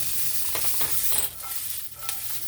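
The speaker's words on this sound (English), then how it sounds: "And we're just letting this melt, this butter melt." Butter melting and sizzling in a hot pan for sweet and sour pork, a steady hiss of frying with faint stirring scrapes, no talking.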